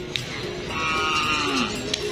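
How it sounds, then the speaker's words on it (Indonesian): A black cow lows with a drawn-out moo outdoors at a karapan sapi bull race, fairly close, over a busy crowd murmur with a couple of sharp knocks. "Ini ada sapi hitam ini guys."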